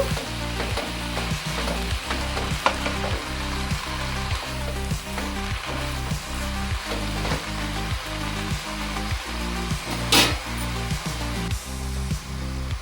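Amaranth leaves sizzle in a hot frying pan while being stirred. Steady crackling is overlaid with a regular rhythm of soft thumping strokes, close and clear, with no voices.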